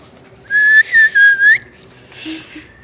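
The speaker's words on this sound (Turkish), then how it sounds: "ıslık sesi benden geliyor" A person whistles a short, clear, close-up tune in a few sliding notes, followed by a softer, breathier whistle.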